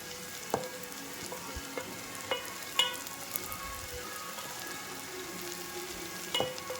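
Small onions fry in oil with mustard seeds and curry leaves, giving a steady soft sizzle broken by a few sharp pops and stirring clicks, with no talking.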